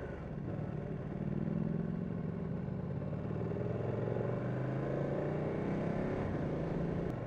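A Ducati 959 Panigale sport motorcycle ridden on the road in a group gives a steady, loud engine drone that climbs in pitch as it accelerates, with wind rush underneath.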